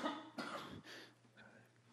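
A few quiet, close coughs in quick succession during a council committee meeting, followed by a softer throat-clearing sound against a faint background hum.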